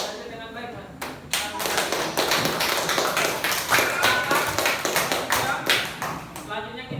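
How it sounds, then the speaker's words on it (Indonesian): A classroom full of students claps hands together in a sustained burst of dense applause lasting several seconds, loud and close, with a teacher's voice speaking before it starts. "tepuk tangan dulu untuk kita semua sudah belajar dengan baik kan?"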